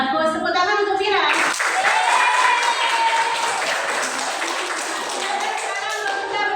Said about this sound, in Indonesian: Tepuk tangan untuk Vira.